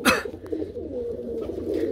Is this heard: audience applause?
no